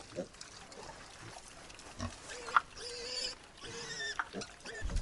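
Vietnamese pot-bellied piglets snuffling and grunting close by, with a few squeals over rustling noise, while a person talks intermittently in the background.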